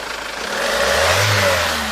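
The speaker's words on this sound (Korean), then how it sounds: "엔진 소리가 좀 부드러워졌어요?" A SsangYong Rexton W engine, freshly fitted with a turbo, runs steadily and loudly up close, its low hum rising slightly partway through as if revving gently, with no talk over it.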